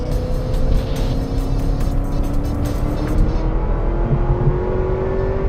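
Chevrolet Corvette ZR1, a 200 mph car, roars steadily under acceleration from inside the cabin, its engine note climbing in pitch over road and wind noise, loud and continuous.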